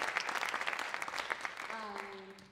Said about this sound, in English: I want to just give a little applause for that.